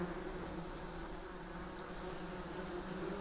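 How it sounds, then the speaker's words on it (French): Wasps buzz in a steady, continuous drone, close and moderately loud, with no pauses or talk over it. "Vous avez vu, on veut tuer des guêpes."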